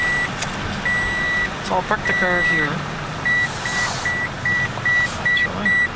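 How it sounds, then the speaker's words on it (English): A car's seatbelt warning chime beeps in a regular repeating pattern, loud and close inside the cabin. Someone talks over the beeping while the engine idles underneath. "that's my alarm beeping for me and my seatbelt"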